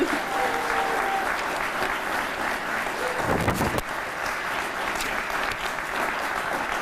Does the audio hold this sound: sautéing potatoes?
no